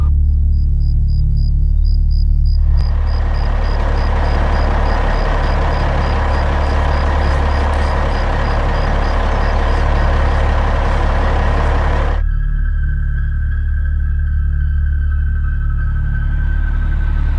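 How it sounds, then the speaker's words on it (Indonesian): A truck passes at night on a road, its broad rumbling roar swelling loud and close for several seconds before cutting off abruptly, with a steady beeping before it and a lingering tone after. "itu dia truknya mau lewat."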